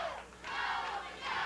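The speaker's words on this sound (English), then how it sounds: "Go, Wolfie, go, the crowd says" A wrestling crowd at a USWA TV event chants loudly in unison, rising and falling in a rhythmic, roaring wave across the arena.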